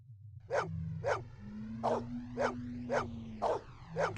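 A dog in the Blade Runner video game barks seven times in a steady rhythm, sharp close yaps over a low electronic hum and a sustained tone.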